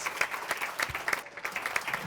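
An audience claps for award recipients at a Salvation Army awards event, a steady patter of hands over a couple of seconds, moderately loud and without talk.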